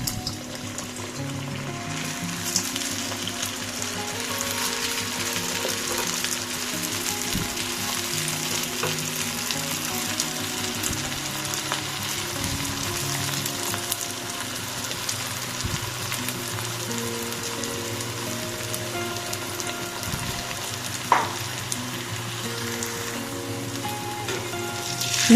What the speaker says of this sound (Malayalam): അപ്പോൾ അത് പൊരിച്ചെടുക്കാം.